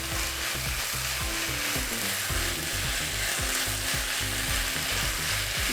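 Vegan, gluten-free fish cake strips stir-fried in a pan with black pepper and sesame oil for Korean eomuk bokkeum banchan, giving a steady close sizzle with rhythmic scraping and clacking of a utensil against the pan throughout, no talk.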